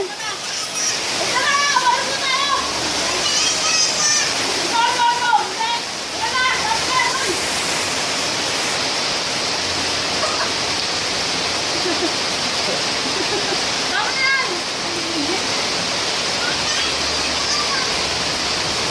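Heavy rain pours down in a steady rushing hiss while a child bathes in it, with a child's and adults' voices, shouts and laughter heard over the continuous downpour.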